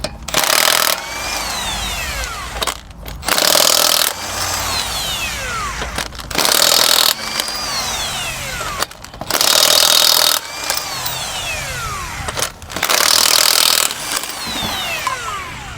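Bursts of a power tool, taken as an impact wrench, loosening the lug nuts on a Honda Accord, four loud hammering runs of about a second each at a steady pace, close up, with quieter shop noise between them.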